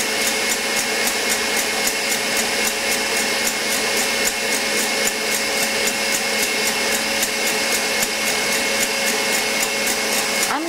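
An electric hand mixer runs on high while whipping egg whites to a froth for a quiche, giving a steady, loud whirring drone with a faint rapid pulsing, close by and without pause throughout.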